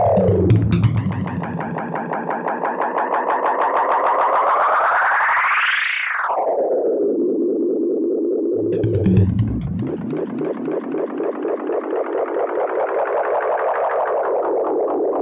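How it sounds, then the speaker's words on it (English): Two long synthetic sweeps, the first rising and then sharply dropping, the second swelling back upward, heavily processed and distorted with a throbbing texture. "I just have a lot of these risers and weird abstract transitional sounds."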